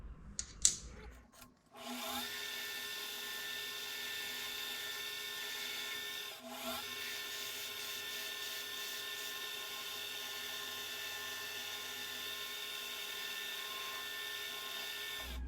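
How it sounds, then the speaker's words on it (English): A small power drill whines steadily at high pitch with bright harmonic overtones as a blunt centre drill bores into metal, briefly dipping once before resuming its constant machining drone, close up. "Now it has to have a 5mm hole drilled through there."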